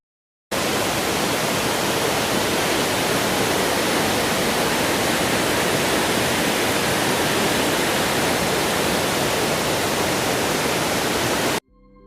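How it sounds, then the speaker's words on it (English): Rushing water of the Kadavupuzha Pool Waterfalls in Kerala, a loud, steady, broadband roar that holds unbroken and close for the whole stretch before cutting off abruptly. "This is the one, Kadavupuzha Pool Waterfalls."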